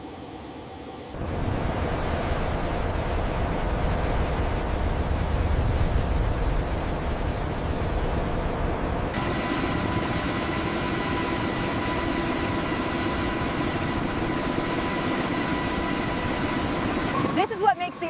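Two turbine engines of a V-22 Osprey tiltrotor, over 12,000 horsepower combined, run in a steady, loud, continuous roar with a whining tonal edge that turns brighter and harsher partway through before a brief rattle at the end.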